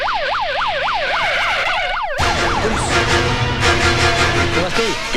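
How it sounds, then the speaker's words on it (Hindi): A loud fire brigade siren in a Hindi action film scene wails in fast, regular up-and-down sweeps for about two seconds, then the scene cuts to denser sound where fading siren traces linger. "ओए मारिया, फायर ब्रिगेड बुलाओ"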